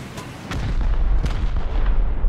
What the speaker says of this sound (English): I'm launching it, like, right above the turret, sort of. You'll see where my rocket goes.